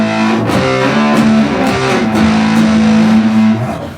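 Heavily distorted electric guitar through a Big Muff fuzz pedal with the mids boosted, playing loud sustained chords and notes for about four seconds with no talking.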